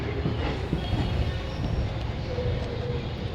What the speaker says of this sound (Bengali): রাত 2:06 আমাদের ট্রেন পৌঁছে গেছে বর্ধমান জংশন।